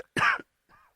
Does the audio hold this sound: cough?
yes